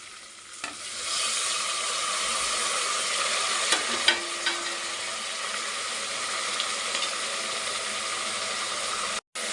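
Tomatoes and mint fry in a pan for a Kannada capsicum bath dish, a steady close sizzle with a few scraping clicks of a stirring spoon, no voices.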